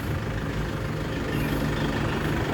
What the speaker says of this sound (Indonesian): itu mobil bosnya datang, Monster 300 HP